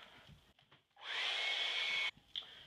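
A handheld blower, like a hair dryer, runs on a leather filler putty repair, starting at full strength, holding a steady loud whoosh for about a second, then cutting off abruptly, with quieter handling sounds around it.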